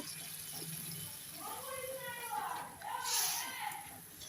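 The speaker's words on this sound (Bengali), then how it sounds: "তো কষিয়ে নিয়েছি, এবার আমি দিয়ে দিচ্ছি জল।" Water poured into a pan of ridge gourd poppy-seed curry, a splashing gush that swells toward the end, with voices and faint background talk underneath.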